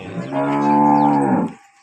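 A dairy cow gives one loud, close, sustained moo lasting over a second, alone with no voices.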